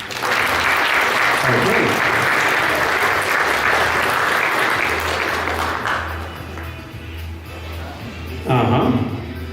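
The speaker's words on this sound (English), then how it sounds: "An applause for Team Red here." Convention crowd at a furry fursuit charades event applauds a team, with loud sustained clapping for several seconds that fades, then a brief spoken word and a low hum underneath.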